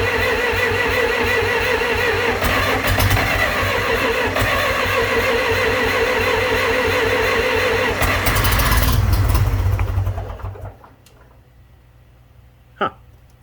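A John Deere 3020 LP tractor engine cranks steadily and loudly for about ten seconds, surging briefly as it almost catches, then cuts off, leaving near silence with one faint knock near the end.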